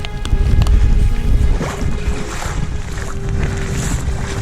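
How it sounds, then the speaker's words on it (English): Strong wind buffets the microphone outdoors beside a lake in Padjelanta, Sweden, a loud, continuous low roar with gusty swells and faint lapping water underneath. "there is so much wind right now"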